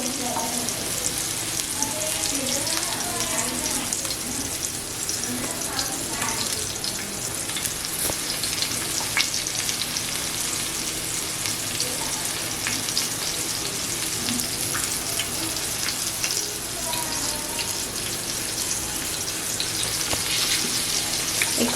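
Pomfret fish coated in semolina and flour seasoned with chili powder and salt frying in a pan, a steady, dense sizzle that runs unbroken throughout with no talking.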